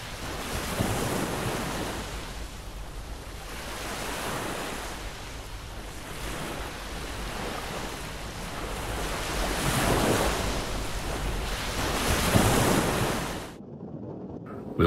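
Surf washes steadily onto a rocky, pebbly shore at Church Bay on Anglesey, rising and falling in broad swells with wind rumble, then cutting off abruptly near the end.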